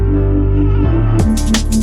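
A short loop from a music track, sustained bass and synth tones with a sudden shift partway through, its drums and kick drum stripped out, leaving tonal layers and some bright noisy bursts; no voices.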